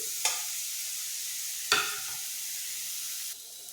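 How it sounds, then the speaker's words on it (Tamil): Masala and shallots stirred in a pan for a raw banana fry, a soft sizzling hiss broken by two sharp spoon scrapes, close with no voices. "இதை ஒரு நிமிஷம் கிண்டி விட்டுக்குவோம் இந்த மசாலாவோடு சேர்த்து"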